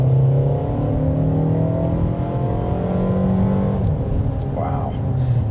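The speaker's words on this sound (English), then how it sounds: "We're going to go ahead and change that to the sporty mode, and I'm just going to hit the gas a little bit more this time." A 2024 Mercedes-Benz GLA 250 in sport mode pulls hard, engine rising steadily in pitch through a gear with a shift near the end, heard from inside the cabin under constant road and wind noise.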